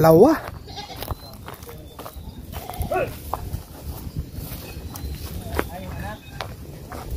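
Goats on a farm bleat in short, wavering calls: a loud one near at the start, then softer ones spread through the rest. A person talks quietly among the animals, with light shuffling and hoof sounds in the background.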